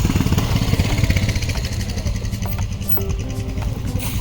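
A Hero Xpulse motorcycle runs at a campsite, its engine a steady close rumble that holds level throughout, with no talk.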